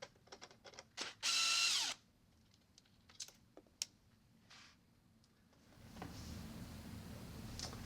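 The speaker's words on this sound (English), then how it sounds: "Next, we'll remove the piston guide screw and washer." Power driver unscrewing the piston guide screw and washer from a CSI Signature II water softener control valve, a single near whirring burst of about a second, then scattered small clicks and handling noises and a low background hum.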